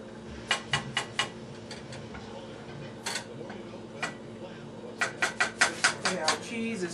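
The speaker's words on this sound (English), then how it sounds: "Just stir that up slowly until it melts down." A spoon stirring melting cheese in a pot, with quick bursts of light metallic clinks and scrapes in two clusters against a quiet kitchen background.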